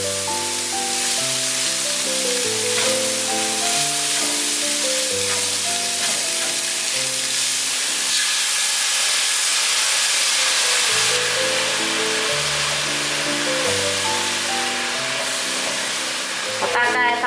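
Bamboo shoots and diced king oyster mushroom sizzle steadily in a hot wok while being stir-fried, a constant loud hiss beneath soft background music, with no one talking.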